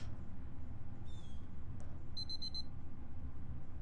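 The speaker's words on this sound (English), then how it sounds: "I hate the sound of that alarm." A digital alarm in a virtual bedroom beeps in a short rapid burst of high, repeated tones. It follows a brief chirp and sounds over a steady low background hum.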